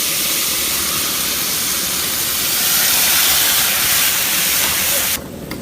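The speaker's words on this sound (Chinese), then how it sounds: "这回你就可以把这鱼汤放里了" Fish soup for a pickled-fish dish, with pickled cabbage, ginger and wild chilies, pours into a hot wok and sets off a loud, steady hiss of steam and sizzle, then cuts off sharply near the end.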